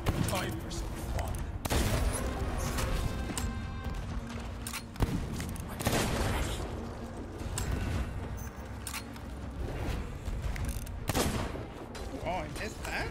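Dense gunfire in the pirate game Sea of Thieves, with repeated sharp shots and bursts over a continuous loud battle din, and a player's voice heard at times.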